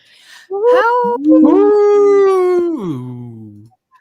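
A single wolf gives one long, loud howl close by. It starts with a short rising yelp, swells into a sustained tone, then slides down and fades out, with no other sounds.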